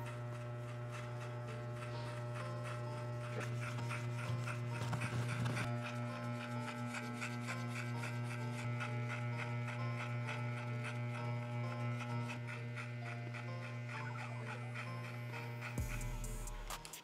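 Electric hair clippers fitted with a number one guard run continuously with a steady buzzing hum while cutting a men's fade, alone with no talking.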